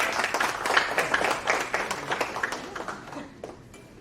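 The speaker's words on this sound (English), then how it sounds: "So only Denise Lopez gets the applause" Scattered audience clapping at an alumni talk, a short burst of uneven claps that thins out and fades within a few seconds.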